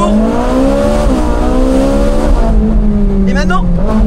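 A Ferrari engine revs hard toward 9000 rpm, a loud, sustained, rising harmonic wail with shifting pitch as the revs climb and fall, while a voice talks underneath.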